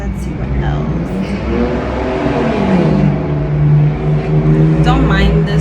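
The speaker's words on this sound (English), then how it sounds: "You're gonna hear a couple loud cars" Loud cars pass outside, a steady droning engine rumble that swells and shifts over several seconds, heard under a person talking indoors.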